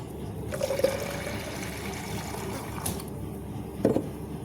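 Water is poured into a homemade diesel fly and mosquito repellent mixture, giving a soft, steady trickle and splash with a couple of brief louder gurgles, faint and without talk.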